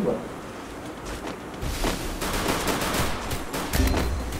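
Pistol fire in a Free Fire 2v2 Clash Squad match, a rapid series of sharp gunshots over game noise, with players talking around it.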